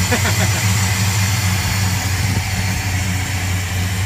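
A 1970 Dodge Coronet engine idling, a loud, steady, even low rumble recorded close to the car throughout.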